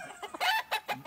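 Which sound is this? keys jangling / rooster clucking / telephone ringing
rooster clucking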